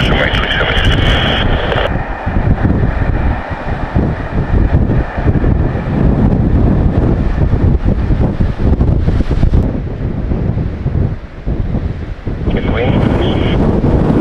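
Strong, gusty mistral wind buffets the microphone at Marseille Provence airport, a steady heavy roar with surging gusts throughout, while a faint voice sounds underneath.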